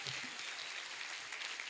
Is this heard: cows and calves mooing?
no